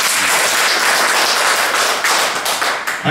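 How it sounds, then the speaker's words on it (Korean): A seated audience at a marketing presentation gives a loud, dense round of applause close by, with steady clapping that begins to thin out near the end. "박수 한번 주셔야겠죠?"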